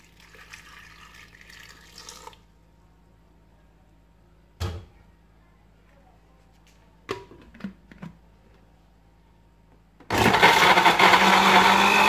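A kitchen blender blends garlic, ginger and pepper with a little water. Brief clinks and handling sounds come first, then the motor starts loud and close at the end.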